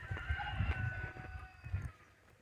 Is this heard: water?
no